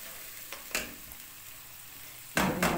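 Onions and cashews fry in a kadai with a soft, steady sizzle, broken by a few clunks of stirring, close and fairly quiet.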